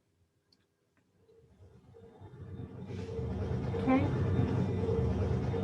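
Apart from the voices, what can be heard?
electronically generated helicopter sound effect on synthesizer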